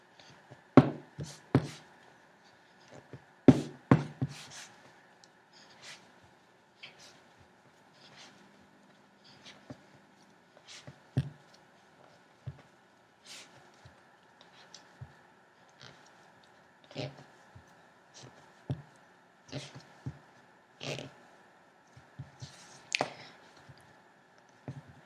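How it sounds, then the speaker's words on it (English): Sugar cookie dough kneaded by hand on a work surface, giving soft repeated presses and squishes with occasional sharper taps, fairly close and quiet throughout. "I'll just knead it a bit."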